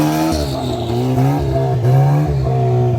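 Turbocharged 2-liter Pro R off-road vehicle, converted from a four-seater to a two-seater, revving loudly and steadily up close, its engine note rising and falling through repeated throttle pulls with no talking.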